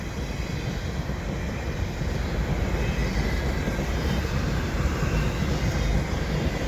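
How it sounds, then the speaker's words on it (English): A CP double-stack freight train rolls past nearby at the Dorval ramps in Montreal in winter, a continuous heavy rumble with rattling wheels that grows slightly louder midway through. "we got a Stop CP double stack and a CN one passing by."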